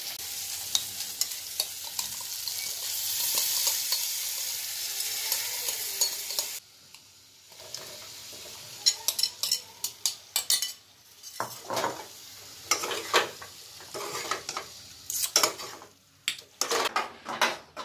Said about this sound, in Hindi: हमने जो प्याज टमाटर का मसाला बनाया था उसमें हम इस चाप को मिक्स करेंगे।